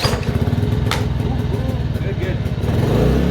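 An 1800W/2300W Ryobi inverter generator, freshly reassembled after full disassembly, starts and settles into a steady, rattly idle with a brief surge, close and loud, while a person speaks briefly over it.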